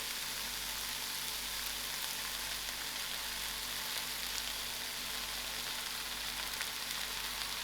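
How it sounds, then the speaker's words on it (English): Mushrooms fry in a stir fry pan with a steady, even sizzle that holds at the same level throughout, with no talking. "I'll allow this mushroom to fry out a little so some of its juices will be released"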